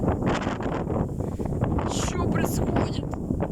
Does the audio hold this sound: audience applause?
no